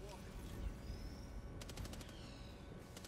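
Gunfire in Helldivers 2 rattles out in two quick bursts of rapid automatic shots, faint and set low under the game's ambient noise.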